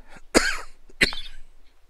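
Two sharp, close coughs from one person about half a second apart, loud against a quiet background, with no talk.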